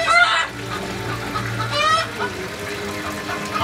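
Hens cluck in a farmyard as a peasant woman feeds them, with pigs kept nearby; several short, fairly close clucks and squawks come in bursts over a low, steady background.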